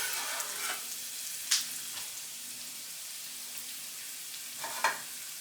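Leek gently sautéing in turkey lard, a soft continuous sizzle with a couple of brief utensil clicks and scrapes, fairly quiet and close, no talking.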